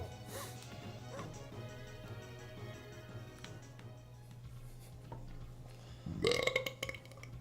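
A man lets out a loud, deep, drawn-out burp near the end, imitating the comic-book villain Gorilla Grodd over a low hum of retro video game sounds.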